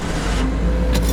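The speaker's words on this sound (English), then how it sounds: "What, the car just started?" A car engine turning over and settling into a steady idle with no one at the key, a close, continuous low rumble filling the short moment alone.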